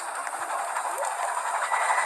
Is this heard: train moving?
yes